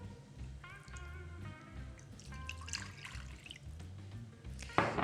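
Water poured into the bottom of a pot holding artichokes dressed with oil, a soft trickling and dripping with clinks of the pot, ending in a brief louder splash.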